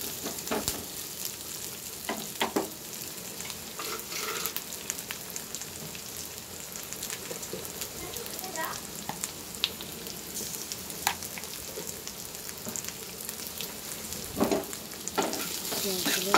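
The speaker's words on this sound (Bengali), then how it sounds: "পেঁয়াজগুলো ভাজা হয়ে গেছে।" Sliced onions sprinkled with a little salt and fennel seeds fry in a pan, giving a steady, soft sizzle throughout with occasional stirring scrapes and clinks over the crackle.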